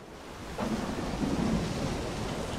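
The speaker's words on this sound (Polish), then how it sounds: "Znowu burza?" A thunderstorm in the video game STALKER 2 rolls in as a low, heavy rumble of thunder over a steady hiss of rain, dense and enveloping with no voices.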